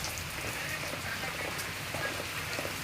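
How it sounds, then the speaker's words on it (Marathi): Heavy rain pours steadily beside a grape orchard, a dense, even wash of near drops with no break, a few faint frog-like croaks mixed in the background. "किती डोरात पाऊस चालू आहे"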